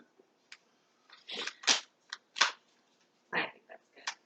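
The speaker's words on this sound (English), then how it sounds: "A lot of cards to shuffle." Deck of playing cards being shuffled up close, with a few short riffling bursts and soft snaps separated by brief pauses, fairly quiet.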